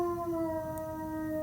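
Indoors, a dog lets out a sustained, mournful howl as sirens pass outside, the drawn-out tone holding steady and fairly loud throughout, with no voices present.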